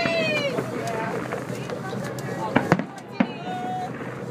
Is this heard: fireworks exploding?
yes